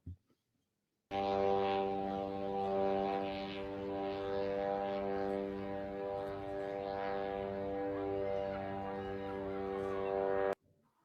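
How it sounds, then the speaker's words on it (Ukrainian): A Russian Gerbera drone flies overhead in Lithuanian airspace with a steady, buzzing engine drone rich in harmonics. The sound holds for about nine seconds, fairly even in loudness, with no talk over it. "Ми чуємо звук характерний для дрона."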